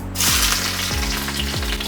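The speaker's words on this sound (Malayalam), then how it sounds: "ഒരു 3 ചുവന്നുള്ളി അരിഞ്ഞതും കൂടി ഇട്ട് കൊടുക്കാം" Chopped shallots fry in hot coconut oil with a loud, steady sizzling hiss that runs the whole time, under soft background music.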